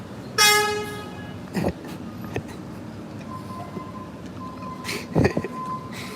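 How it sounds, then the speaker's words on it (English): A truck horn honks loudly once with a bright harmonic blare, followed by several shorter, fainter honks and outdoor traffic noise. "His truck is just honking for no reason."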